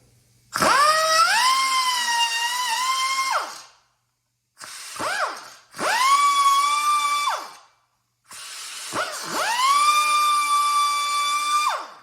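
A 10,000 RPM die grinder cuts open a can in four bursts of high, whining spin that rise as the tool speeds up, then drop away into short silences. Loud and close, with no voices.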